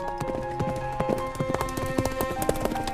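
Horses' hooves clip-clop in a busy, irregular patter of sharp knocks, close and fairly loud, several animals moving together with no voices heard.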